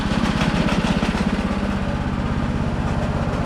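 A salvaged snow blower's small engine runs close by on a test, putting out a steady, fast, even putter with a slight throb and no voices over it.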